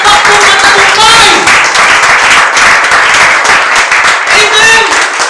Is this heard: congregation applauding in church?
yes